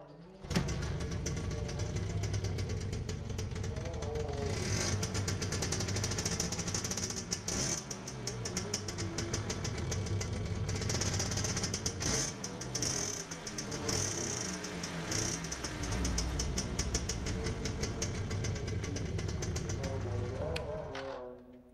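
A Suzuki Bravo engine idles steadily for the whole stretch with a continuous mechanical hum and a faint ticking, recorded outdoors in light drizzle, with nobody speaking.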